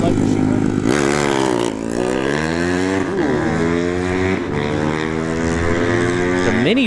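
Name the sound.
mini bike engine at drag strip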